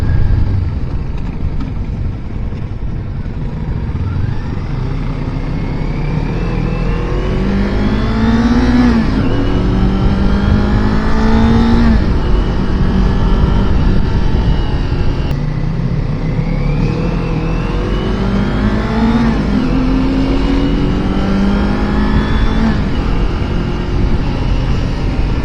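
A 2023 Kawasaki Ninja 400 motorcycle is ridden hard, its engine revving up through the gears with repeated rising pitch sweeps and shifts, loud and close with steady wind rush underneath.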